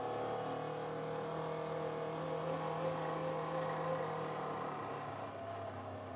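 A StarKnightMT vehicle that has sat unused, driving steadily with a constant engine drone and humming tones throughout, shifting gears, loud and close with no talk.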